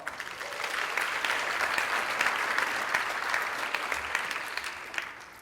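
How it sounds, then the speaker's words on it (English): A university event audience applauding its speakers, a sustained burst of dense clapping that holds steady for several seconds and then fades out. "give all of our speakers one more round of applause."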